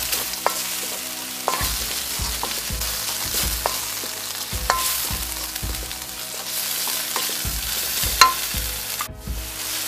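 Meat stir-frying in a hot wok for mapo tofu with black bean sauce and Sichuan peppercorns, a loud steady sizzle broken by regular scraping strokes of a spatula, close and without talk.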